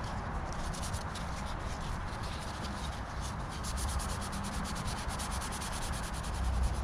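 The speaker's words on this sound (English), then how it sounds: "After we've done this sanding" Continuous hand sanding on the plastic number plate lamp of a Nissan Micra K10, a quick, rhythmic scratchy rubbing, close and fairly quiet, with no talking.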